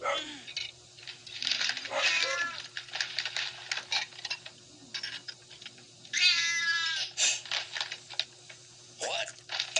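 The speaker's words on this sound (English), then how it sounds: "What? A cat?" A cat meows several times, clear close calls scattered over a quiet room hum, with one long drawn-out cry midway and people talking briefly in between.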